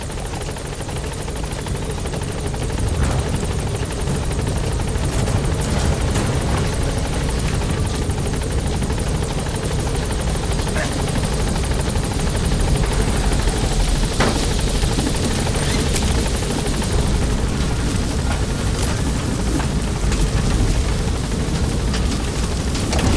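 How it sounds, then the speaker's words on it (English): A support helicopter in Metal Gear Solid V: The Phantom Pain holds a steady rotor roar and engine drone, loud and continuous throughout, with no other sounds breaking through. "Support helicopter has arrived."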